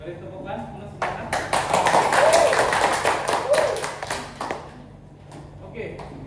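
A classroom breaks into clapping and applause during a micro-teaching lesson, a burst of many hands lasting a few seconds before fading, with voices mixed in.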